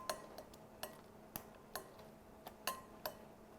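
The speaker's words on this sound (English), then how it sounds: "I'll just roughly chop it" A knife roughly chopping peeled eggplant on a board, with about nine crisp, irregularly spaced taps, close and fairly quiet, with no voices.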